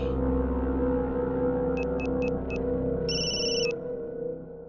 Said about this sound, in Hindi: हाँ बोल टिल्लू, अचानक कैसे फोन कर दिया?